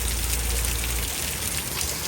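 Heavy rain pours down near a bus stand by a road, a dense, loud, unbroken hiss of drops striking surfaces that fills the whole moment.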